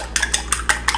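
Two eggs being whisked in a bowl for keto chaffle batter, a quick run of clinking strokes against the side, close and clear with no talking.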